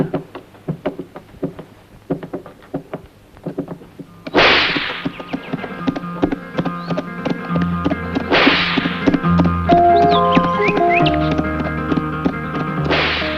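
Horse hooves clip-clop alongside sharp whip-like cracks, with a brisk knocking rhythm building over a bed of music, loud and close.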